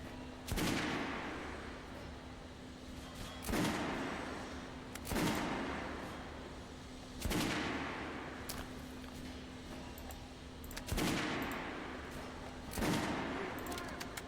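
Gunfire in Metro Last Light: about six sharp, loud shots at roughly even intervals, each with a short decaying tail, over a steady low hum and background ambience.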